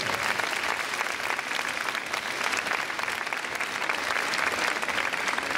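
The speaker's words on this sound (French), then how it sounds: "qu'on peut applaudir très très fort" Loud, sustained applause from a large audience at a fashion and hair show at a Nantes beauty trade fair, dense clapping that stays steady throughout with no pause.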